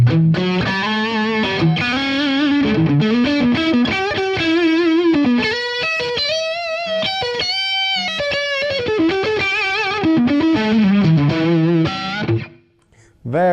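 Distorted electric guitar on a Washburn Parallaxe with humbucker coil tap, riffing and sustaining notes with a thinner, brighter tone, loud throughout before dropping out near the end.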